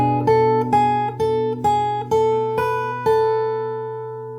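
Fingerstyle acoustic guitar plays the melody of a song together with its chord, six plucked strikes in a steady slow rhythm, each ringing and decaying, the last left to sustain.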